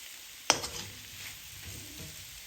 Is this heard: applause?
no